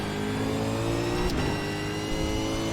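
A supercar runs at speed on a race track, its engine a loud, steady, close drone with a rich, sustained tone and a brief whoosh partway through. No one speaks.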